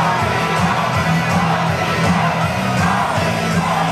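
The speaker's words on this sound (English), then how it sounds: "We got behemoth chants in the crowd." Crowd chanting and yelling at an MMA event, a dense, steady roar of many voices with rhythmic pulses of chanted shouts throughout, loud and continuous.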